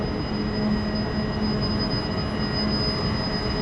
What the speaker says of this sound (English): I believe the train is here already.